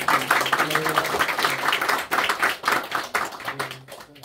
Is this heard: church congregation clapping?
yes